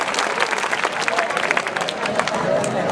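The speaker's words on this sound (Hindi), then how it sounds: "एक बार जोरदार तालियों से लाल साहब का अभिनंदन और स्वागत" Schoolchildren at a government boys' senior secondary school street play in Old Faridabad clap in welcome, a dense, busy patter of many hands mixed with crowd babble, close and fairly loud throughout.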